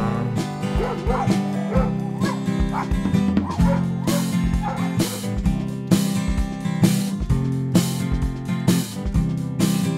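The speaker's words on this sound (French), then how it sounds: "Il y a beaucoup de chiens sur le chemin." Several dogs on a hillside lane in the Grand Bois quarter of Saint-Pierre, Réunion, bark and yip repeatedly in sharp bursts, fairly close, over steady background noise.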